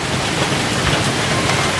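Dense, steady hiss of heavy rain drumming on a leaky roof overhead, continuous and loud with no pauses or voices.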